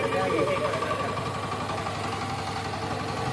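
A VST power tiller tractor engine runs in a single gear, a steady rhythmic low chugging thrum with faint knocking, heard at moderate distance while people talk nearby.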